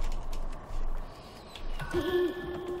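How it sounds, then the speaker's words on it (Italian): An owl hoots in the video game Never Alone, a steady tonal hoot coming in near the end over a low ambient game backdrop with faint creaks. "E qua c'è un gufo."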